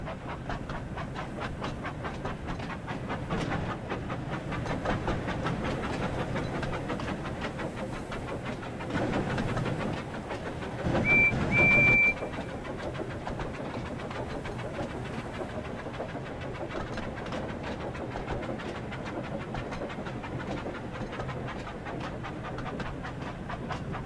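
A steam engine shunting a brake van on a model-style railway, with a steady rolling, clattering rumble that holds throughout, swelling briefly around the middle with a short louder burst, no talk over it.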